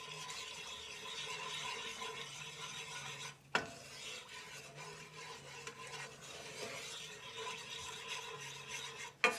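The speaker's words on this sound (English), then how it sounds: "Keep that roux stirring." A roux for seafood gumbo is stirred continuously in a pot, making a steady rasping, scraping rub with a couple of sharp knocks of the spoon, close and fairly quiet.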